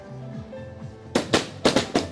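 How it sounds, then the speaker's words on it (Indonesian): Firecrackers set off at a Chinese wedding in a village, a quick run of four or five sharp, loud bangs after a quieter stretch of background sound. "Wah, ini bakar petasan teman-teman."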